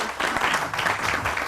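A studio audience claps during a morning television show, a short dense burst of applause from a crowd at moderate loudness.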